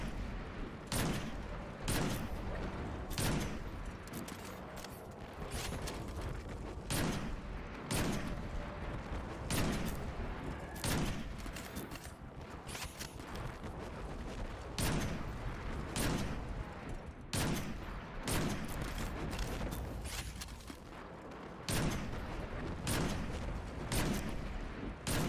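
Repeated weapon fire in the Destiny 2 video game, sharp shots spaced at a steady, slightly uneven rhythm over a continuous rumbling battle backdrop, loud and close throughout.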